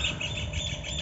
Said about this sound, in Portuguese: Olha os pássaros.